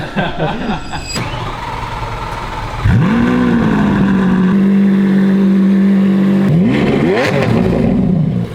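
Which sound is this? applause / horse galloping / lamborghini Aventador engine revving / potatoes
lamborghini Aventador engine revving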